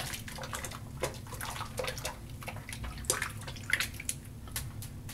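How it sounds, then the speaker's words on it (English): Tap water runs steadily while hands are rinsed at a bathroom sink during a wet shave, a continuous hiss broken by splashes and small drips. "so rinse my hands"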